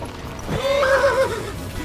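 A horse in the medieval game Kingdom Come: Deliverance 2 gives a loud, close whinny, a single rising and falling neigh lasting about a second over a steady ambient bed.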